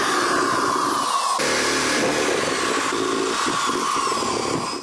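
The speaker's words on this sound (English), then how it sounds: "I'm going to go nuts with some power tools" A power tool whines loudly and steadily, cutting metal on a mini Willys CJ2A steering build, continuous for several seconds with a brief dip in pitch before it cuts off at the end.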